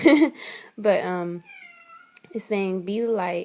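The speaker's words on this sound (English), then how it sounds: "Sorry about my cat." A house cat gives one drawn-out meow in the middle of a tarot reading, heard clearly in a short pause between stretches of someone talking.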